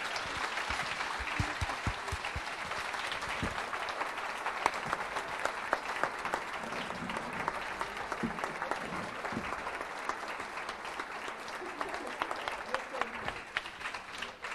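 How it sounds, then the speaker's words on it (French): Sustained audience clapping for award winners at a managers' congress innovation trophy ceremony, a fairly soft, even wash of many hands that carries on steadily throughout with occasional sharper claps. "Et on les applaudit une nouvelle fois."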